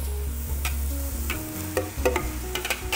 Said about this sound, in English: we're gonna cook this meat until it's grayed on the outside